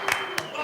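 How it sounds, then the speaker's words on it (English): Audience at a Flint City Council meeting applauding the Powers hockey team for its state championship, a few sparse, close claps spread across a brief moment. "They deserve a round of applause"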